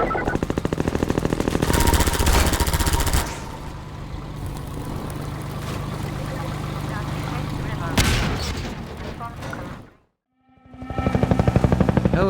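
Half-Life 2 helicopter megabomb attack: rapid, dense bursts of gunfire and explosions blend with a thumping rotor, loud and continuous, then a brief silence before the barrage resumes.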